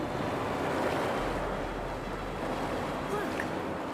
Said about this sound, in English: Look, the water is going down.